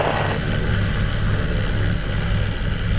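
Helicopter flying over Tahiti's mountains and canyons, a loud, constant rotor and engine drone heard close up from on board, steady throughout with no voices.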